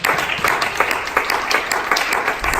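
A church congregation claps together in a fast, steady rhythm, with many hands striking in loose unison and close, lively sharp beats repeating throughout.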